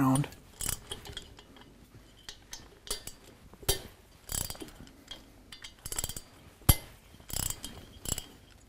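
Wrench cracking loose the cylinder head bolts on a stock 2010 Harley-Davidson FLTRX engine, a series of sharp metallic ratchet clicks and clanks at irregular intervals, close up with quiet gaps between.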